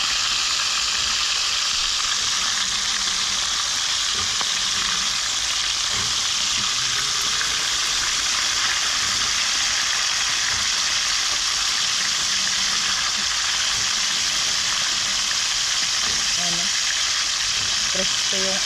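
Food sizzles and fries steadily in a pan until crispy, a constant hiss with small pops and crackles that holds throughout.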